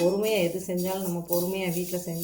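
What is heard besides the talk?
None of the usual background noises is heard.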